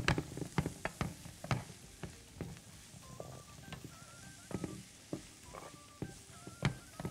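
Onion hits hot meat in a pan, with a quiet, steady sizzle under scattered clicks and scrapes of stirring, faint and close with no talk.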